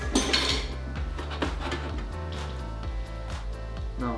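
Plates and cutlery clink and clatter while crispy-skin swordfish is plated up, scattered light knocks over a low steady kitchen hum.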